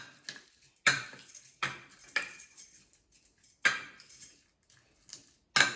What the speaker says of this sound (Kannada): ಈ ಬೆಳ್ಳುಳ್ಳಿನ ಕಲ್ಲಿನಲ್ಲಿ ಜಜ್ಕೋತೀನಿ